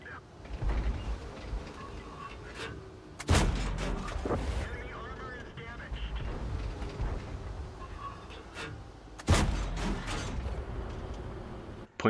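Tank cannon fire in a video game, with two heavy booming shots roughly six seconds apart over a steady rumble of engine and battle noise, and occasional mechanical clanks between them.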